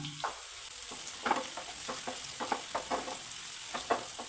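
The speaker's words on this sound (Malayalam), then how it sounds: "കരിയാപ്പില ചേർക്കാം" Curry leaves dropped into hot oil for a Kerala brinjal stir-fry, vazhuthananga mezhukkupuratti, crackling with a steady fizzing sizzle while a utensil scrapes and stirs the pan in close, regular strokes.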